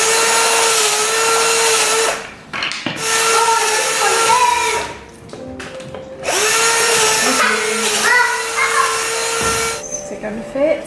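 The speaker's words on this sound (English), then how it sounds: "More drilling the hole." Power drill boring holes in wooden sticks for a Filipino Christmas parol, loud close whining bursts of several seconds each, separated by short pauses, with some background activity.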